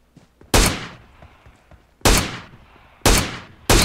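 Gunfire in PUBG Mobile: four loud, sharp single shots spaced irregularly, each with a decaying crack and tail, separated by quieter stretches of faint game ambience.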